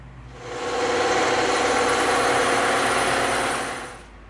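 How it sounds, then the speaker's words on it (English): A bandsaw cuts through EVA foam for a Viper prop: a close, steady whirring roar swells in, holds for about three seconds and fades away, with no talking. "there's our line that we can follow, or two lines we can follow when we go through the bandsaw"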